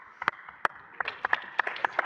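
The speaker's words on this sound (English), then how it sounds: "Everybody give a round of applause for this man." An audience at the Pwnie Awards 2016 claps, sparse and fairly close at first, with individual hand claps landing irregularly rather than building into a dense roar.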